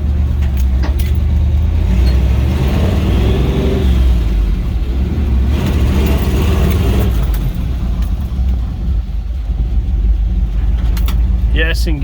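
A 1979 Chevy K5 Blazer with a 4-speed manual pulls away, its engine a loud, steady low rumble that rises slightly, heard close from inside under ongoing talk.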